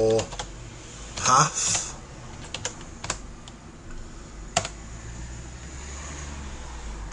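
Computer keyboard typing commands while setting up an Arch Linux virtual machine, a few short bursts of clicking keys with longer pauses, close and moderately loud, with someone talking throughout.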